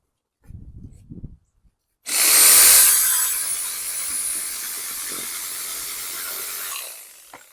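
A reciprocating saw cuts through a roll of sod, using a 5.5 inch jig as a guide. After a few faint rustles the saw starts abruptly, loud and close, then runs as a steady harsh buzz until the end.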